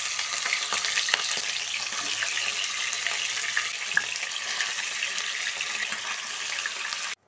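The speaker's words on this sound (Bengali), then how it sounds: "এবার চিকেনগুলো এই তেলের মধ্যে দিয়ে দিচ্ছি।" Pieces of chicken frying in hot oil, a dense continuous crackling sizzle with scattered pops, held steady at close range until it cuts off abruptly at the end.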